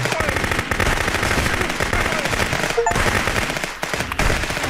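Rapid gunfire in the Contraband Police video game, dense continuous bursts of automatic shots crackling loud and close across the whole stretch, with a few brief pauses between volleys.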